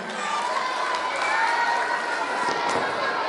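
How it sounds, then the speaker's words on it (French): An audience at a school storytelling-day event applauding and cheering, a dense continuous wash of clapping mixed with children's shouts from a crowd. "On applaudit très fort Ndaï Dias Ndoye, s'il vous plaît."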